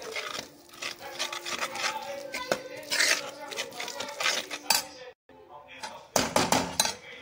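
A spoon scrapes and clanks against a pan while pav bhaji masala is mixed in, irregular close metallic knocks with a brief silent gap, and a person talks throughout.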